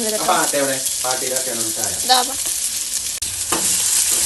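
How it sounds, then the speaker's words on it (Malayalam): Onions sauté in a pan for a fried chicken curry, with a steady close sizzle broken by scraping spoon stirs. "ഉള്ളിയൊക്കെ ഇങ്ങനെ വഴന്ന് കുഴഞ്ഞു വന്നു"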